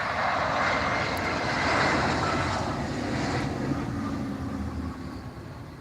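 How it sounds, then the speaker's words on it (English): A Condor Airbus A320 lands at Tenerife airport, heard as a broad, steady jet roar at moderate distance that slowly fades over several seconds, with no talk. "That's the Condor A320 just landed there, Paul."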